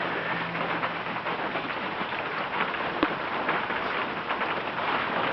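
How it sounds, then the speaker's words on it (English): Steady rain falling at a barn where a Model A Ford is parked, a dense, even hiss of drops on the roof and ground that continues without a break. "Here we are at a rainy day"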